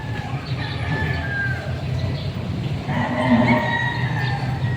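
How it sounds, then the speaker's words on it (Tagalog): Cattle moo loudly and close at a livestock market where cows and water buffalo have arrived, drawn-out bellows over a busy murmur of animals and background voices. "Baka at kalabaw, maraming dumating dito."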